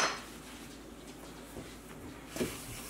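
A baking pan being scraped clean of flour and dough, giving soft scratchy scraping and light metallic rubbing, close and quiet, with one sharper clink near the end.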